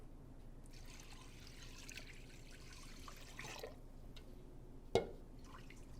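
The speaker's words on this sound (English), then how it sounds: "More rinsing." Rice being rinsed under running water at a kitchen tap, a faint steady trickle and light sloshing, quiet and close, with one brief clink near the end.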